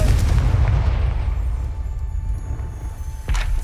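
A Confringo fire spell exploding in Hogwarts Legacy, a loud low boom that rumbles and slowly fades, followed near the end by a sharper burst.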